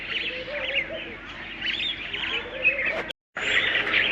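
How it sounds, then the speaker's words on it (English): Starlings in Kruger National Park chatter and call continuously, busy overlapping chirps and whistles nearby, with a brief cut to silence before the calling resumes. "starlings are going crazy."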